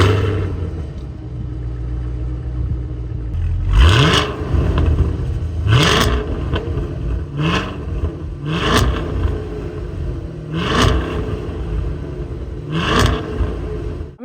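Cadillac CT5-V Blackwing V8 revved while sitting in park, a low idle rumble broken by about six sharp rising revs spaced every couple of seconds, loud and close.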